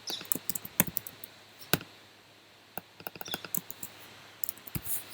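Computer keyboard and mouse clicking at a desk while a search is entered on a support website: scattered sharp taps in short irregular runs, close and fairly quiet, with no speech.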